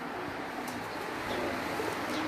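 Racing pigeons on a rooftop loft coo softly amid a constant hiss of outdoor background noise, with a few brief calls breaking through.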